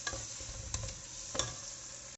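Mint sizzles in a pan of chicken biryani gravy, with a steady close frying hiss and a couple of brief stirring scrapes.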